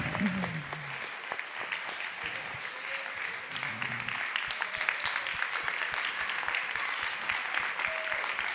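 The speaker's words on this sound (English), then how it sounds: "give her a round of applause" Sustained audience applause at a film screening and panel discussion, steady dense clapping filling the room for several seconds, with a few voices faintly underneath.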